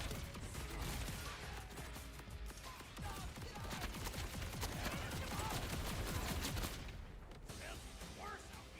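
Sniper rifle fire in a video game, a dense run of sharp gunshot cracks and mechanical clatter repeating over several seconds at moderate level, tapering off near the end.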